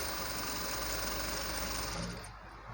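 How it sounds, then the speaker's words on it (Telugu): A sewing machine stitching lehenga fabric in a steady rapid run, a close, even mechanical whir that slows and fades near the end of the short stretch. "ఇది ఇలా మెల్లిగా ఫోల్డింగ్ చేసుకుంటూ ఇలా కుట్టండి."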